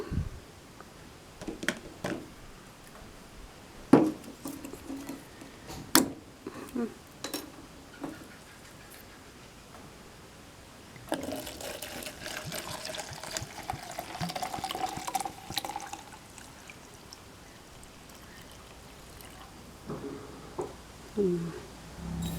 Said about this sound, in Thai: เหลือเหล้าขาวอีกหนึ่งแก้วนะคะ เดี๋ยวขอเทแป๊บหนึ่ง